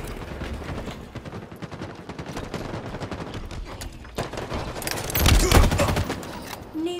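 Rapid gunfire in Halo Infinite multiplayer, a dense stream of crackling automatic shots with a louder explosive burst toward the end, close and busy, with faint game voices underneath.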